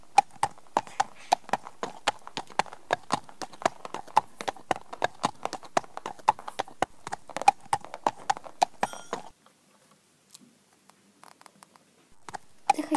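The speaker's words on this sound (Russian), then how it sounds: "пошли лошадей в Леваду отведем" Horses being led to a paddock clip-clop steadily at a walking rhythm, crisp hoof strikes close by, then the hooves stop and a few faint sounds follow.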